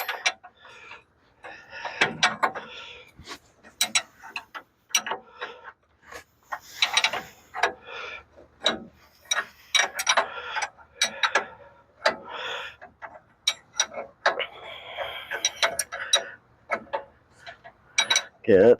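A bolt is threaded in during a 1965 Ford Thunderbird rebuild, heard as scattered close metallic clinks and taps, some in quick bursts, amid light handling noise and occasional speech.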